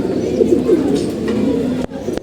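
Pigeons coo close by, soft low throaty calls repeating in a loose rhythm over a quiet background.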